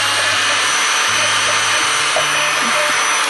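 A vacuum cleaner runs steadily and close by while cleaning lint out of a quilter's sewing machine, a continuous loud whirring hum with no pauses.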